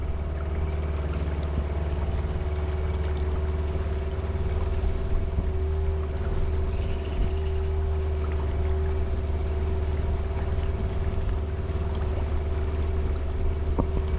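A boat motor hums steadily on water near Granada, Nicaragua, a continuous low, even drone with a faint tonal whine running through it, close and constant for the whole stretch with water wash and no speech.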